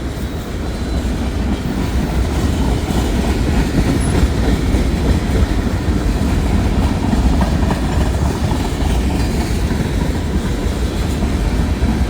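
A Norfolk Southern freight train passes at speed at Canal Ridge. It makes a loud, continuous rumble with clattering wheels and rolling rail noise that holds steady throughout, close by, with no voices.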